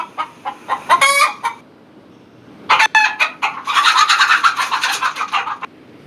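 Chickens cluck and a rooster crows as a sound effect played from a Google search, with a few sharp clucks followed by a long crow near the end, loud and alone with no talk.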